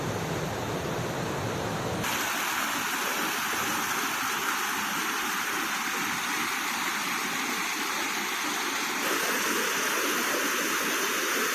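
Floodwater pours over a check dam on the swollen Pinjal River in Wada taluka, a loud, steady, close roar of rushing water that fills the whole stretch without pause.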